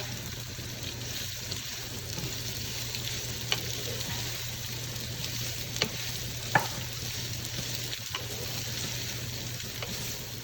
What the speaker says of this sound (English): add the remaining onions and fry it and mix it up well